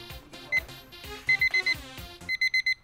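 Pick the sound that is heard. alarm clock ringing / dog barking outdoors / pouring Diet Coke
alarm clock ringing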